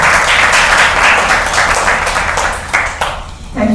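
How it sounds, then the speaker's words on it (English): Audience applause for the panelists at an art panel on AI and art, a steady wash of clapping filling the room, thinning out toward the end as a voice begins to speak. "let's give our panelists a big round of applause"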